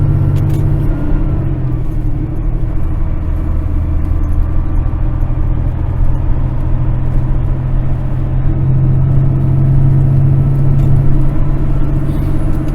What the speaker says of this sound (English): I turned the engine brake down a couple of notches, let the truck roll easier, less drag, less engine braking